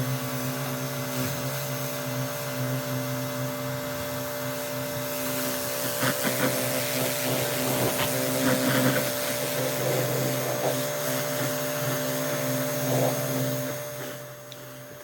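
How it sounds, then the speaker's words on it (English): A pressure washer runs on a 1965 VW Beetle, a steady droning motor hum with the spray hissing and rising in intensity partway through before easing off near the end. "and now it's time to pressure wash"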